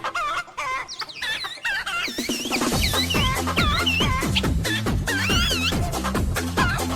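Chickens cluck and squawk continuously and densely, with overlapping agitated calls from a nearby flock during a scuffle between a chicken and another bird, loud and close with no speech.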